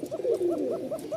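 A Rajshahi Giribaz pigeon calls close by with a short run of soft, throaty cooing notes, repeated rhythmically several times in quick succession with no other sound.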